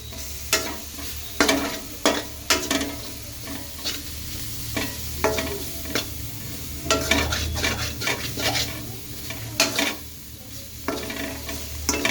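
Cheese cubes melting and bubbling in a pan bring a steady soft sizzle, broken by frequent sharp clinks of a utensil stirring against the pan, near and moderately loud.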